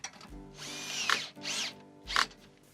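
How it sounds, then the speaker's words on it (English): A power drill driver tightens bolts on a solar panel rack with a low clutch setting, whirring in short close bursts that each end in a sharp ratcheting clutch click, the pattern repeating twice. "let's move on ahead and tighten up all these bolts"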